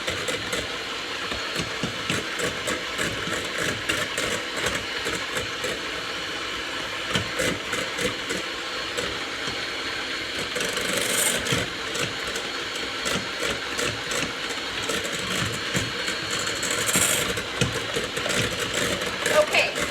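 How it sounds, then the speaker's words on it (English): An electric hand mixer whirs steadily while beating eggs, sugar and lemon juice for a lemon cheesecake, a continuous buzzing motor at moderate volume lasting throughout. "I'm gonna beat this well with an electric mixer. Sorry, it's gonna be loud for a minute."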